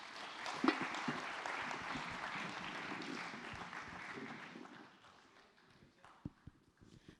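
At a regional summit, an audience bursts into dense, rapid clapping after a speakers' session, heard steadily at first and then thinning to a few scattered claps as it fades out.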